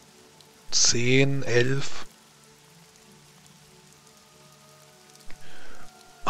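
Rain patters softly and steadily as a background sound effect during a tabletop role-playing session, while a voice speaks over it in two short bursts.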